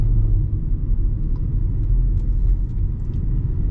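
Hyundai Creta Platinum 1.0 turbo compact SUV under full throttle, a steady, loud low engine rumble with road noise heard from inside the cabin, no talking.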